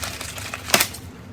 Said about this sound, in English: that was me opening a box